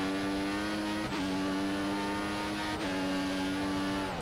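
Formula 1 race car engine in the F1 2014 game at the Singapore night circuit, a loud, continuous high-pitched whine held steady, with two brief dips and rises as the car shifts gear, alone without talk.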